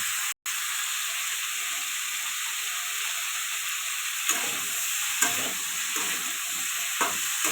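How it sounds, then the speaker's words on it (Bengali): Cauliflower pieces sizzle in hot oil with turmeric and salt in a pan, a steady close frying hiss broken by a few soft scraping stirs, with no talking. "কপিটা আর একটু ভাজবো"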